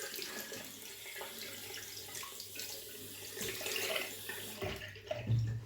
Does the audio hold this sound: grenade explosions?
no